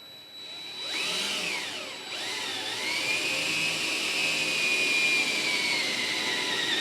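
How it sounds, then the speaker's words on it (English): A power drill bores holes through a TCI shock tower panel, giving a steady high whine that winds up, briefly dips, then holds a continuous grinding tone for several seconds without any speech. "So I'm going to drill some holes in here."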